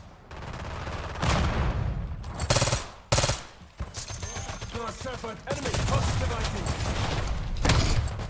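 A submachine gun fires in Call of Duty: Black Ops 6, with loud bursts and short gaps between them and some mechanical clatter, while a player talks in the background.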